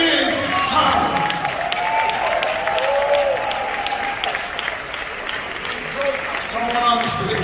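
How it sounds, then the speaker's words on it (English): Audience applause for people signing an agreement on stage at a hip hop alliance event: steady, dense clapping from a crowd throughout, fairly close, with a presenter's voice calling out over it. "Let's give them all a round of applause because this is power."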